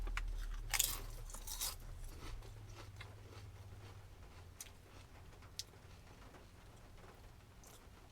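Someone bites into lightly dusted Lay's Summer BLT potato chips. A few faint, sharp crunches come first, then quiet, soft chewing under low background noise.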